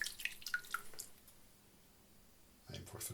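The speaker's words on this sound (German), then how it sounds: "Kann ein paar Tropfen Wasser vertragen." A few drops of water falling into shaving cream, producing bright, faint plinking drips in quick succession near the start, followed by quiet room tone and then a soft rustle.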